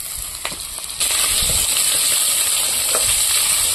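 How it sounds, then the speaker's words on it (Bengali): Diced potatoes fry in a pan, a steady broadband sizzle that jumps louder about a second in and holds, with a few faint scrapes and clicks underneath. "তো আলুটা প্রথমে একটু ভেজে নেব।"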